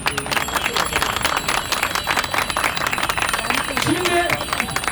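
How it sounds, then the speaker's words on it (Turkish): Outdoor crowd clapping for members of the press at a cycling tour event, steady dense applause with a voice speaking briefly over it. "Onlara da büyük bir alkış istiyorum."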